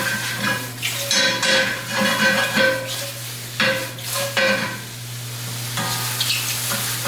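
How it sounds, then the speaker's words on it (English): Vegetables and sausage sizzle and fry in a cast iron pan, a steady crackling hiss with occasional stirring scrapes and clinks, close and continuous. "I'll be sauteing some vegetables along with the sausage"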